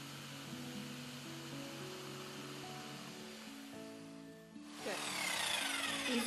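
A power saw starts up and cuts along a marked line on a piece of furniture, rising from a low drone to a harsh, loud buzzing rasp for the last couple of seconds.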